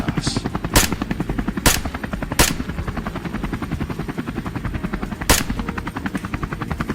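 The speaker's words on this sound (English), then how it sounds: "Gunfire thundered across the field, bullets tearing through the soil." Rifle shots crack out four times at irregular intervals from a helicopter over a field during a wild boar chase, loud and sharp above the steady, rapid thudding of the rotor.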